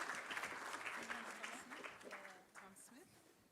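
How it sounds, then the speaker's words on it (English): Audience clapping at the Africa Construction Law Conference 2024 forms a steady, fairly faint wash of applause, with a speaker's voice over it that fades as the clapping thins. "Another round of applause, please."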